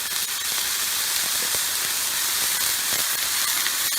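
Water hisses and steams on a hot Blackstone griddle around chicken fried rice, a loud, steady sizzling hiss close by with faint crackles and no talk.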